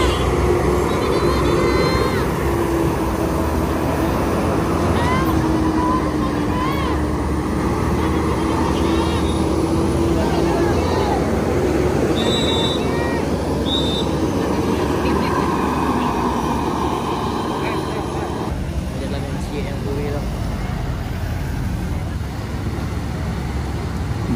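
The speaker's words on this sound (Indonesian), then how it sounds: "Bus selanjutnya yaitu Mac Express tanpa penumpang menuju Pulau Jawa" Buses passing on the steep, winding Sitinjau Lauik mountain road, including an empty Mac Express coach bound for Java: a continuous loud engine roar and road rumble, with occasional horn-like tones and voices talking over it.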